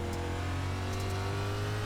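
A race car engine on the Bristol Dirt track in iRacing, a steady droning hum with a strong low tone, running at a constant pitch and fairly quiet, with no voices.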